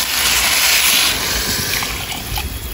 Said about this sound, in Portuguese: Vou colocar a água.